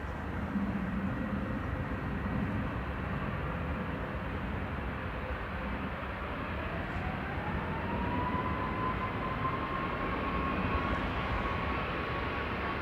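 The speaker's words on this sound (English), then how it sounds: "It's Sun Express coming in from Dalaman, I think it was." A Sun Express Boeing 737-800 arriving from Dalaman at Manchester Airport, a steady loud jet roar with a rising engine whine partway through, heard alone with no talk.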